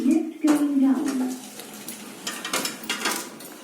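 An old lift in a Barleymow Estate tower block rattles as its doors open, followed by clattering mechanical knocks and a low hum as it descends; a brief voice-like tone is heard near the start.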